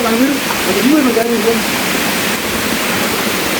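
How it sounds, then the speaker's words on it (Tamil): A roaring waterfall pours in a steady, loud hiss of rushing water, with voices talking briefly over it near the start. "ஃபால்ஸுக்கிட்ட வந்துட்டோம்"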